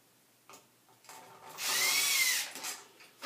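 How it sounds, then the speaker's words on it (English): Power screwdriver driving a screw into a wall stud during a bathroom renovation, a single close whirring burst of about a second rising and falling, with quieter tool handling around it. "I'll put a screw in here."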